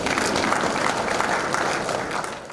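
Audience at a registered quantity surveyors' annual assembly claps steadily for a few seconds, a dense even patter of many hands without voices, easing slightly toward the end.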